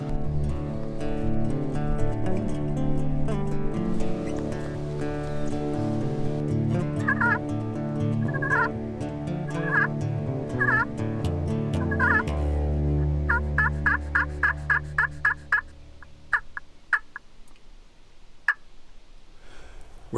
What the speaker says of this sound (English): those toms didn't light up even though they gobbled before they got down from the tree